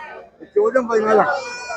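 A large Beetal goat at the Chattipparamba market gives a wavering, nasal bleat lasting about a second, close and fairly loud, with faint market murmur around it.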